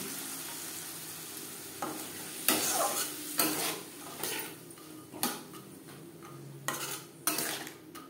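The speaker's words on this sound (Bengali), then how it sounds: "মশলার সাথে ছোলা 2-3 মিনিট নাড়াচাড়া করে নেব" Soaked chickpeas are stirred with ground spices in a frying pan, giving a soft sizzle broken by scraping and clinking spoon-on-pan strokes, near and mid-loud, with no voices.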